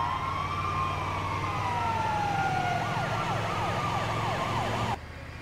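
An ambulance siren in GTA V wails and then switches to a fast yelp, loud and steady over engine hum, and cuts off sharply near the end.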